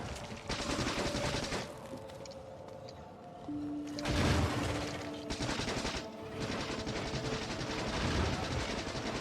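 Automated turrets in the video game Factorio fire at large biters: dense, rattling bursts of rapid gunfire that keep rolling across the clip, with no voices.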